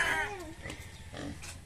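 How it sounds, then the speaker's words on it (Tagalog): A sow grunts and squeals in short, rough bursts, close by, with a faint voice in the background. "Ayan, inahing baboy."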